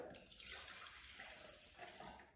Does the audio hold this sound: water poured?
yes